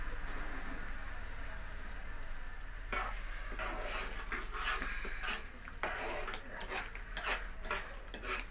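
Karachi halwa stirred with ghee in a pan, a low sizzle under repeated scraping and clicking utensil strokes that grow busier partway through, over a constant low hum.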